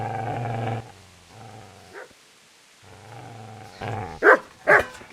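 A dog in Kingdom Come Deliverance 2 growls low and steadily, then breaks into two loud, sharp barks near the end, close by.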